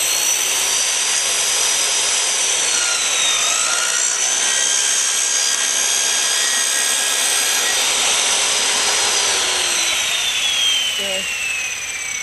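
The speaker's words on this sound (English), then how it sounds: "We're going to start off with a skill saw, and I'm just going to rip down this edge here real quick to show you how nice this plastic cuts." Skil-style circular saw ripping down the edge of a plastic alpine snowboard riser, a loud continuous high whine with steady cutting noise across the whole stretch, wavering slightly in pitch and easing near the end.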